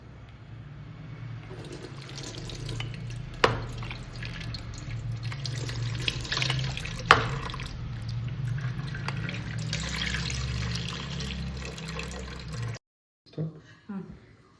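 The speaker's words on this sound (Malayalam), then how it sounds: "ജസ്റ്റ് ഒന്ന് ഫസ്റ്റ് വെറുതെ അരിപ്പയിലൊന്ന് അരിച്ചെടുക്കാം." Homemade pineapple wine poured through a kitchen sieve, a steady close liquid trickle and splash running for about thirteen seconds with a couple of clinks, then stopping abruptly before brief handling noises.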